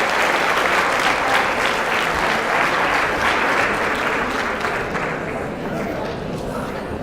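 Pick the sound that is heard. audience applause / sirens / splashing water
audience applause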